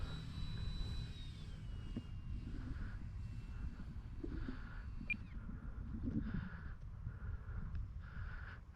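An Arrows SZD 54 RC model glider's electric motor whirs in an outdoor field, a faint steady buzz with a pulsing tone that rises and falls amid wind and ambient noise.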